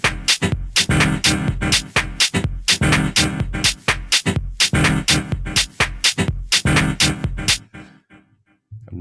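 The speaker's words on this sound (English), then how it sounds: "a dirty old piano sound like that" A dirty old piano sample plays choppy, rhythmic chord stabs at 125 BPM through a dotted-eighth delay, with echoes trailing each hit, before the last repeats fade out.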